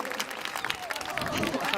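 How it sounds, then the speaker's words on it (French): An 11-year-old female Atlantic walrus from northern Quebec slaps her flippers together during an aquarium show, giving a run of quick wet claps beneath a presenter's ongoing talk. "Super humble, elle s'applaudit elle-même."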